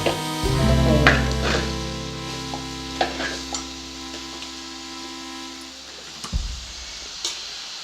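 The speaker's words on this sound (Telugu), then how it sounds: "వంకాయ కూడా ఫ్రై అయింది ఇప్పుడు టమాటా వేస్తాము" White brinjal with potato curry being stirred in a pan as tomato goes in, with close scraping and clinking of a spoon and light sizzling that fades toward the end.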